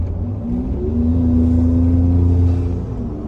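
Deep, steady exhaust rumble from a 2020 Ford F-150 2.7 EcoBoost pickup with an AWE 0FG exhaust, swelling slightly as it accelerates, loud and close, with no voices.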